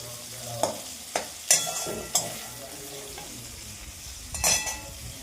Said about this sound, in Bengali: চিকেন আর আলু সুন্দরভাবে ভাজা হয়েছে